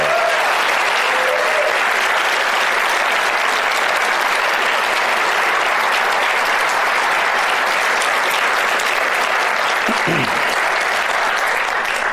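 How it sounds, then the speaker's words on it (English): Sustained, loud audience applause at a TED event, a dense and even wash of clapping from a large crowd that holds steady for the whole stretch, with a brief voice or whoop near the end. "Give them all another round of applause."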